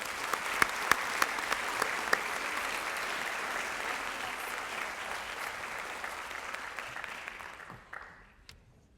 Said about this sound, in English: Let's give the juniors another round of applause.